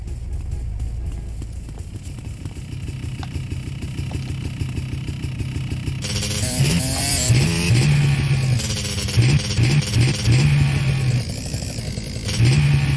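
A motorcycle engine in GTA San Andreas idles with a steady low throb, then revs louder with rising and falling pitch over the second half, alone and close.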